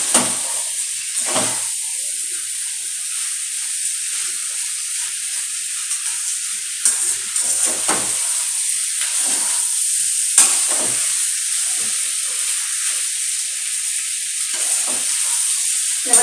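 Potatoes frying with garam masala in a pan, a steady loud sizzle with repeated scraping stirs breaking through the hiss, no voices.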